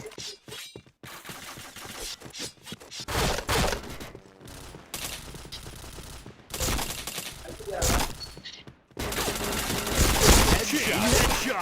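Rapid bursts of video game gunfire and impacts, loud and crowded, broken by short gaps, with excited voices talking over the shooting.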